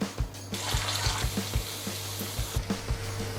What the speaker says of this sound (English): you can also deep fry these, but I'm doing a bit of a shallow fry thing here